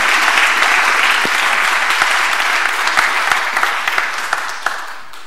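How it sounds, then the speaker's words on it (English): A short burst of audience applause at a tech talk welcoming speaker Theo Crevon, dense and fairly close, tapering off slightly toward the end. "Give him some applause"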